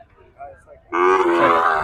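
A single loud, close cow moo, deep and drawn-out, at the Noymail cattle market in Chuadanga, following a few seconds of faint murmuring voices in the background.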